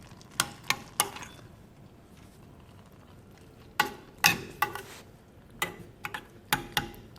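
Intermittent clicks and scrapes of a spoon stirring sweet potato mixture in a pot on slow heat, arriving in small clusters over a quiet background.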